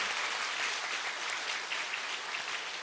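A church congregation applauds to welcome back a minister at a Sunday worship service, a steady, dense wash of many hands clapping at even loudness throughout, with no voices over it.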